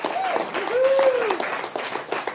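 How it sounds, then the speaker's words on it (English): A comedy show audience claps for a volunteer called up on stage, steady close applause with a few whistles and voices mixed in. "Give Jake a big round of applause."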